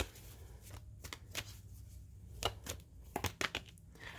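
Wisdom of the Oracle divination cards being shuffled by hand, a series of quick crisp riffling and slapping bursts at close range, quiet and uneven, with no talking.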